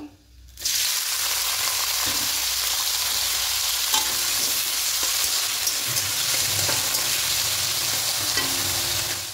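Whole garam masala spices (cinnamon, cardamom, cloves) and sliced onion frying in hot oil for kachchi biryani, a loud, steady sizzle that starts abruptly after a brief quiet moment and continues throughout with occasional stirring scrapes.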